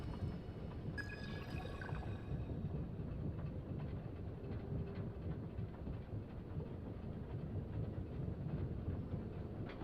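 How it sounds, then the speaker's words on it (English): Train ride in a video game, a steady low rumble of rolling wagons with faint rhythmic clatter, continuous and moderately quiet, with a brief high chime early on. "I just didn't get on a random train going to some other mission"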